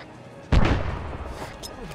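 Outgoing artillery fire in a military video game: one heavy, close boom with a rumbling tail that fades over a second or so, under faint background noise.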